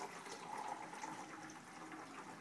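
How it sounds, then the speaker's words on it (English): Saltwater brine pours steadily into a homemade funnel, a soft, continuous watery trickle and splash that stays fairly quiet throughout. "We pour the saltwater brine into the homemade funnel."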